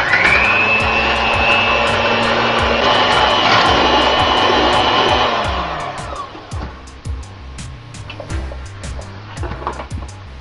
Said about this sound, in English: Just power whisk this for a couple of minutes until you get soft peaks forming.